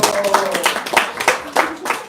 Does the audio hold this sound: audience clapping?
yes